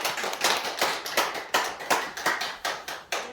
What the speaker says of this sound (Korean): 예, 박수로 하겠습니다.